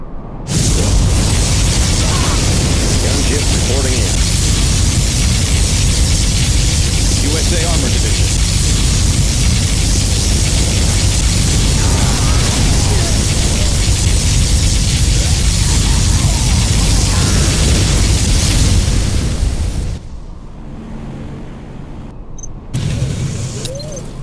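A particle cannon strike from the orbital weapon in Command and Conquer Generals makes a sustained, very loud roaring blast of hissing noise for about twenty seconds, then drops away abruptly to quieter battle sounds.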